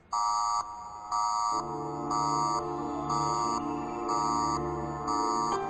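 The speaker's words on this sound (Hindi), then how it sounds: "ये आग का अलार्म है।" Office fire alarm sounding in repeated on-off bursts of a high electronic tone, about six pulses, loud and close, with a steady lower hum joining partway through.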